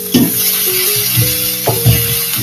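Onions, mint leaves and spice powder sautéing in a pan, giving a continuous loud sizzle with a few soft stirring knocks and scrapes, close up and with no voices.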